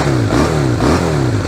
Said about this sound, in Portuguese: esse era o som do motor de 2 cilindros